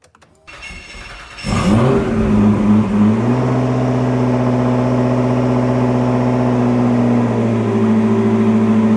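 A Lotus Esprit Sport 350 is started with a key: brief starter cranking catches into a loud engine that flares up, then settles into a steady, close idle, with no talking.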